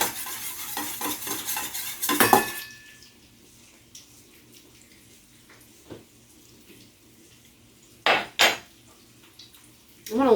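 Garlic chili oil noodles are tossed with sesame oil in a bowl, a busy burst of clattering and scraping at first, then quieter, scattered clinks and stirring strokes.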